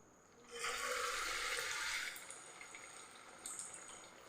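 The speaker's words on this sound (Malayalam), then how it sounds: "ഇനി നമുക്കിത് എണ്ണയിലേക്ക് അങ്ങ് ഇട്ട് കൊടുക്കാം" A rice flake (aval) vada is slipped into hot oil and bursts into a hissing sizzle that swells for about a second and a half, then settles to a softer, quiet bubbling fry with no voices.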